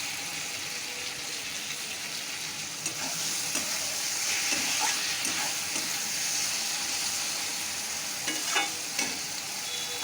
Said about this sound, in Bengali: এতে এবার আমি একটু পোস্ত ছিটিয়ে দিয়ে একটু নেড়ে নেবো